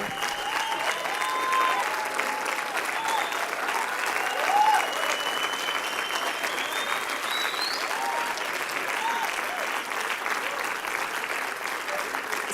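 An audience at a church session applauds at length, a dense, even wash of clapping from many hands that holds steady for over twelve seconds, with a faint voice under it.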